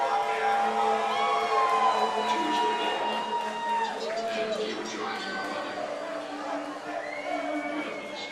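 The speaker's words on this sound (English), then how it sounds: "The crowd is on their feet here in the Sidney Byrne Davis Art Center." A crowd cheers and roars at a Combat Quest fight night in the Sidney Byrne Davis Art Center, a steady, dense wall of voices running throughout with a commentator's voice mixed in.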